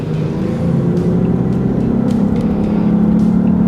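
A 2013 Lexus GS hybrid in Sport Plus mode revs up to 3,000 RPM, a loud, close, steady engine drone with a hum that rises slightly partway through.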